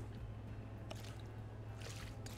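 Paintbrush dipped and swished in a bucket of water, giving a few soft wet squishes and drips over a steady low hum, with brighter splashy bursts near the start and end.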